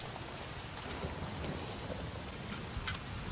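Steady, dense rain with thunder rumbling through a storm in the video game Days Gone, a continuous wash of rainfall with a few brighter spatters near the end.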